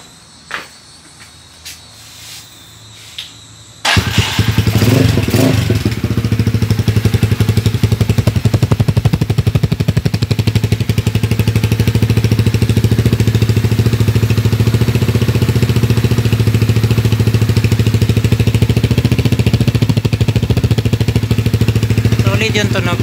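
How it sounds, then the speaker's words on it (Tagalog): A Motorstar Z200 Explorer motorcycle idles through an Akrapovic exhaust fitted with a silencer, a steady, loud, close engine drone that starts abruptly after a few seconds of quiet and holds unchanged to the end. "Sound check with Akrapovic na merong silencer."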